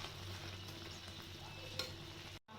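Butter goes into a pan of cooking mustard greens (sarson da saag), giving a steady close sizzle and frying hiss with stirring scrapes and one sharp clink, then a brief cutoff near the end.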